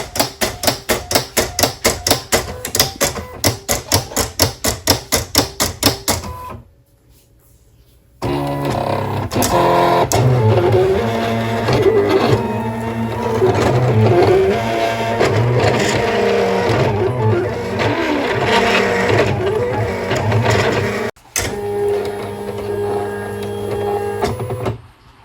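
A vinyl cutting machine cuts a sticker with a fast, regular train of mechanical clicks at first, then a short pause, followed by a continuous buzzing, whirring motor drive with shifting pitch that runs until it stops near the end.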